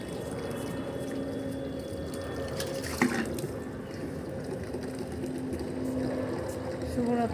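Water poured onto household plants in the evening after the dishes are done, a steady soft splashing and trickle throughout with a faint hum and a brief clatter near the three-second mark.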